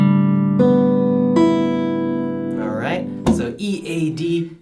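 Freshly tuned guitar strings in standard E A D G B E tuning, a few plucked notes ringing out in turn with long sustain, then a voice starts talking over the fading tones.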